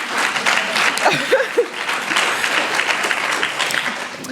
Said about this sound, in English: Just note the spontaneous applause.